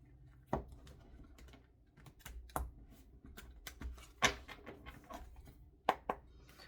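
Tarot cards are shuffled in quick, irregular flurries of soft taps and riffles, close and quiet, with brief pauses between bursts.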